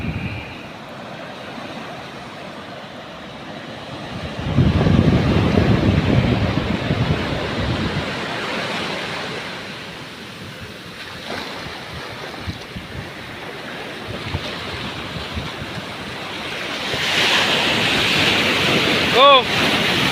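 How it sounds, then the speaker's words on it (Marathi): Large sea waves surge and crash onto the shore at Kunkeshwar on the Konkan coast, a steady roar of surf with buffeting wind noise, swelling louder midway and again near the end, with no talk over it. "भले मोठे मोठे लाटा येतात समुद्र किनाऱ्यावर येऊन"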